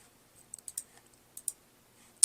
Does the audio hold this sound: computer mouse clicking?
yes